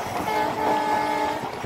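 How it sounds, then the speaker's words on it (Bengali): A commuter train on the Khulna–Mongla railway rolls along past Katakhali station toward Mongla, with a steady, loud rumble of wheels and carriages and a sustained horn tone over it, close by and with no talk. "কাটাখালী স্টেশন পার করে ট্রেন তার স্বগতিতে মোংলা অভিমুখে এগিয়ে যাচ্ছে"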